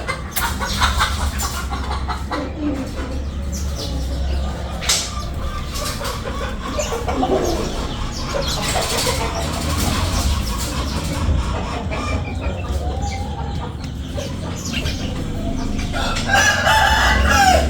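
Chickens and a rooster cluck and crow close by in a busy farmyard setting, with repeated crows and steady clucking layered over a constant low background hum for the whole stretch.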